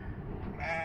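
A single short sheep bleat rises near the end, close by and fairly soft, from a flock that includes a ewe and her lamb.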